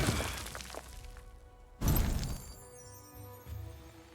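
A stone golem in Pathfinder Kingmaker shatters in a loud crashing break that scatters debris, after an earlier smaller crack and before a trailing thud.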